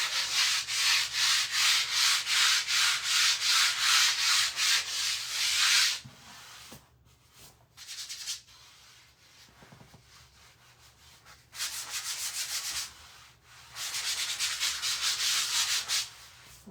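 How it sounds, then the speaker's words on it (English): Wood being sanded for a stained autumn sign, a steady loud rasping run for about six seconds, then quieter pauses broken by two more bursts of close rubbing. "We're going to be sanding this again here in just a moment."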